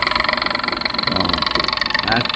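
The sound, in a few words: refrigerator compressor motor running after switch turned on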